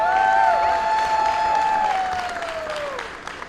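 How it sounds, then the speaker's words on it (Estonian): Applause from a crowd at a motorsport award ceremony for the Pro class winners, a short burst of clapping fading out beneath a loud sustained tonal whine. "Teeme Pro-klassi parimatele veel ühe suure aplausi."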